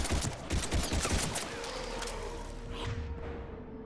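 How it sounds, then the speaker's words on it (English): Thanix cannon, the Reaper main weapon in Mass Effect 3, firing in a rapid rattling burst of loud blasts followed by a sustained droning hum that fades out. "That's a Thanix cannon. It's the main weapon of the Reapers."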